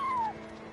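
A cat in the video game Genshin Impact gives a single short, high meow that slides downward, heard alone over quiet in-game ambience.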